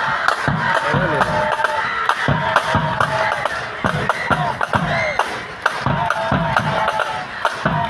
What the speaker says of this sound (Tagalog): UST crowd and supporters.